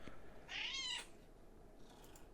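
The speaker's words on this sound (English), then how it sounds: "that's my cat crying" A male cat cries indoors with one clear, drawn-out meow, moderately near but quiet, followed by a fainter trailing call in a hushed room.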